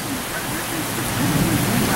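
Heavy rain pouring down near docked boats, a loud, continuous hiss that swells slightly midway, with a voice faintly present underneath.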